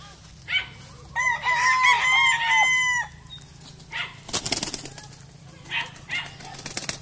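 A rooster crows once, loud and near, followed by scattered clucking, rustling and wing flaps from chickens around.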